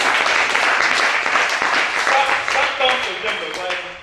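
An audience claps and applauds at a religious gathering, a sustained wash of clapping with voices talking over it throughout.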